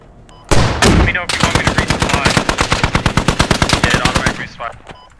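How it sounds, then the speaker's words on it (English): A Humvee-mounted machine gun fires in the military shooter game Squad: one long, rapid, loud burst of evenly spaced shots at close range, with no talking. "Taking fire from Humvee."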